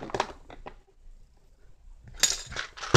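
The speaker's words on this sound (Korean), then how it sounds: "그릇이 필요하겠죠." A bowl is set down while craft supplies such as white sand and wood glue are laid out, giving short clattering knocks at the start and again near the end, close and alone with a quiet pause between.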